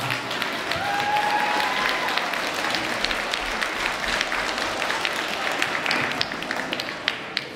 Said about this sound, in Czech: takže si jim zatleskejte.